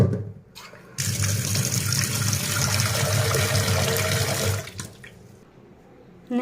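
Chana dal being rinsed in water for a bottle gourd curry, a steady rushing, sloshing wash running for several seconds before fading into quieter splashes.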